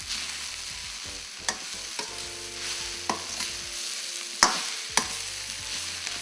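Vegetable samosa filling of mashed potatoes being mixed together, with soft scraping and stirring and a few sharp clicks and taps of the utensil against the pan or bowl, close and unaccompanied by speech.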